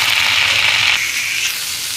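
Kharkul leaves, an itchy taro-like green, hit hot oil in a pan with a loud, close burst of spitting hiss that drops to a softer sizzle after about a second.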